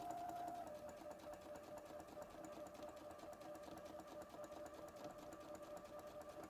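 A sewing machine runs a continuous, even stitching drone while sewing a fabric basket, faint but steady throughout.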